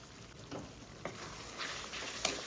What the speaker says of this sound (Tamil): பூண்டு சேர்த்ததுக்கப்புறம் நல்லா மிக்ஸ் பண்ணி விடுங்க பூண்டு வேகட்டும்